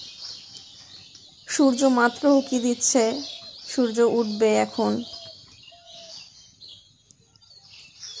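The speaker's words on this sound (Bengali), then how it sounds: "পাখির ডাক, কিচমিচি করে পাখি ডাকছে" Birds chirping at dawn in a Bangladeshi village near a river, a thin, steady high twittering in the background that continues under someone talking close by.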